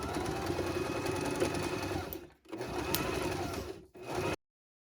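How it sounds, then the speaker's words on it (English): Baby Lock Zest sewing machine stitching the side seams of a t-shirt dress, a steady fast mechanical hum with two brief pauses, close and alone. "We're just sewing our side seams all the way down."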